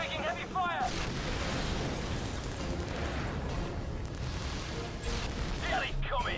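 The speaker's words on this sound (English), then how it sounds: "Taking heavy fire." Video game Anomaly Warzone Earth battle: dense, continuous heavy gunfire and rumbling explosions roar throughout at moderate level, with a voice speaking over the din.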